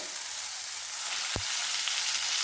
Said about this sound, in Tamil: தக்காளி இப்போ சாஃப்டாக வரைக்கும் நம்ம குக் பண்ணி எடுத்துடலாம்.